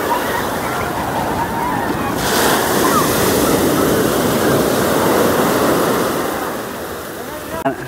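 Ocean waves roll onto Alappuzha beach at sunset, a steady broad wash of surf with some wind buffeting the microphone, swelling slightly in the middle and easing toward the end.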